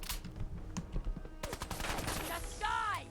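Gunfire in the Fallout 4 video game, several sharp shotgun blasts in quick succession amid busy game effects, loud and close, ending with a ringing tone.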